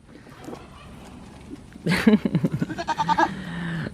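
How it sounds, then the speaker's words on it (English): A goat buckling bleats loudly and close by in a rapid run of wavering cries. A faint voice and quiet sounds come before it. "He was my most expensive goat."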